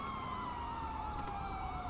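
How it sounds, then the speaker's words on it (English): A police car siren from the GTA 5 video game wails steadily in a continuous, loud, slowly falling tone, with low engine rumble beneath and no talking. "And this siren is annoying me."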